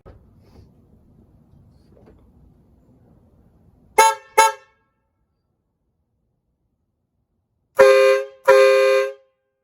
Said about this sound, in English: I know y'all are dying to see the horn or hear the horn, so let's get that going now